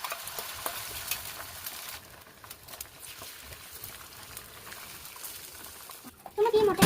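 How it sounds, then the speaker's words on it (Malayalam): Beaten egg poured into a hot pan for an omelette hisses in a soft, steady sizzle, with a louder burst of stirring and clatter at the end. "ചൂടായ പാനിലേക്ക് ഈ മുട്ട ഒഴിച്ചെടുക്കാം."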